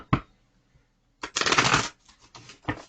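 Tarot cards riffled and shuffled by hand, a quick flick, then a longer crisp riffle burst followed by several shorter card snaps, close and clear with no talk.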